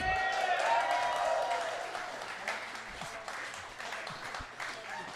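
A live studio audience applauds the show's sponsor with a burst of clapping that fades over a few seconds, followed by talk from the hosts.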